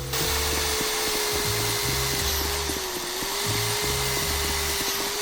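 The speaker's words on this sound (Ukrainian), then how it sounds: "тут, до речі, є галімий баг з звуком цього дреля, коли ви закінчили роботу, він ще працює" A power drill in the GTA roleplay game Moonlight RP whines on in a steady, close drone with a rhythmic pulsing underneath, still running after the job is finished.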